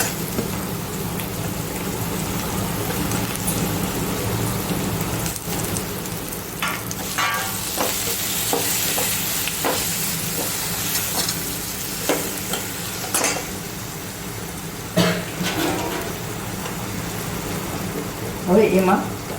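Onions frying in a pan over a low gas flame give a steady, close sizzle and crackle throughout, with occasional stirring scrapes and pops. A voice talks over it at times.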